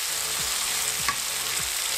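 Tomatoes fry in a pan for rice, a steady close sizzle with a few scraping stirs of a spoon running through it, and no voices.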